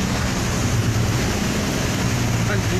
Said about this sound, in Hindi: जगह जगह पानी जा रहा है